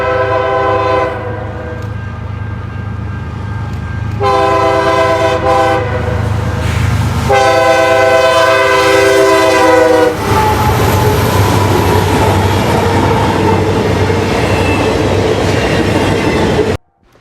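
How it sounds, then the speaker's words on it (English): CSX locomotive 907 leads an eastbound intermodal freight train in the Chicago area, sounding its horn in several loud, sustained blasts before the rumble and clatter of passing railcars takes over. "CSX 907 leads an eastbound intermodal"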